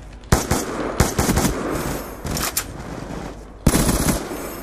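Rapid bursts of automatic gunfire from Call of Duty: Black Ops 2 gun game, several loud volleys with short gaps between them.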